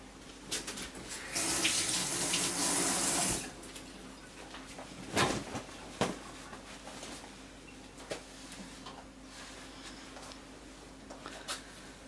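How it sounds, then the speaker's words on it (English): Water runs from a faucet into a sink for handwashing, a steady close hiss lasting a couple of seconds, then a few scattered knocks and splashes as it stops. "The first step any good chef shall do is wash their hands."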